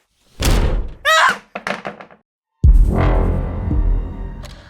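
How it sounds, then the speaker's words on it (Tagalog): Heavy thuds bang against a door in a horror sound effect: a loud thump, a creaking slam, several quick knocks, then a deep booming hit with a lingering low rumble. "Nang biglang may lumagabog sa pinto."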